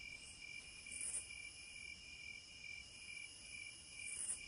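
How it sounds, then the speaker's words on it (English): Crickets chirp on a calm night in a steady, faint shrill trill that pulses gently throughout, with no other sounds around it. "The night was calm with only the sound of crickets."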